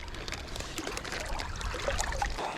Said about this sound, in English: we're going to get some water in this bag to thaw out these fish a little bit quicker